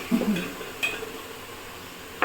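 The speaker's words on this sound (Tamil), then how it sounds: "இதை நல்லா எண்ணெயில் வதக்கலாம்" Mushrooms sautéing in oil in a pan for mushroom biryani, with a soft steady sizzle under clinks and scrapes of a spoon stirring against the metal pan, a few sharp taps standing out.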